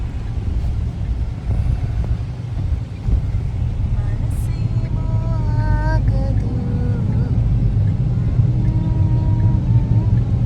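Interior rumble of a Green Metro bus on the move, a steady low drone with engine tones rising and falling in pitch, heard from inside the cabin.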